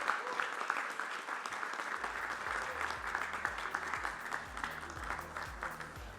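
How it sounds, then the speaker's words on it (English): Audience applause fills a corporate launch ceremony, continuous clapping from a sizeable crowd at moderate level, with a low rhythmic musical beat entering partway through. "Big round of applause, ladies and gentlemen."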